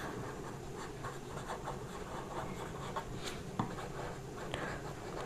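A pen scratching steadily across paper while a maths problem is written out, with continuous close, soft rasping strokes and a few faint taps.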